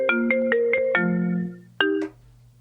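A phone rings during a live show, a series of rapid tonal ringtone bursts followed by a final chirp, loud and close with no talking over it.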